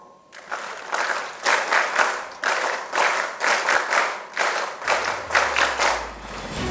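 Applause from an audience at a school foundation day investiture ceremony, loud and continuous for several seconds and swelling in waves. A low hum joins near the end.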